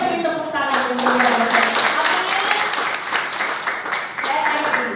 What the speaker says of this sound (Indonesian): Yang percaya beri tepuk tangan yang mulia